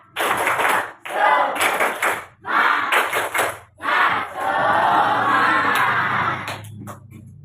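Indonesian schoolchildren in a classroom perform the tepuk semangat clapping chant, with loud bursts of rhythmic claps and chanted, shouted voices in short phrases. It ends in a longer sustained cheer.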